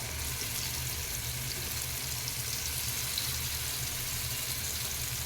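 Paneer cubes shallow frying one by one on a hot tawa over a medium flame, giving a steady, even sizzle that stays close and constant throughout with no talking.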